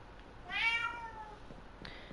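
A single house cat gives one clear, drawn-out meow indoors, fairly close but soft, with a quiet room behind it and no talking.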